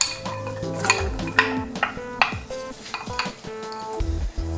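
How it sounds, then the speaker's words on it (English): Carrots tumbling into a pot for homemade chicken noodle soup, a run of close clattering drops and knocks against the pot over a light sizzle, with scraping and stirring between the hits and no voices. "And we're gonna add our carrots."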